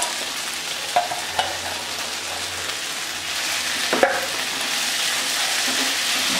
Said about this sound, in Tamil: இப்போ இதில் வந்து இந்த ஃப்ரை பண்ணி வச்சுருக்கிற இந்த கோபியை வந்து நான் சேர்த்துக்குவேன்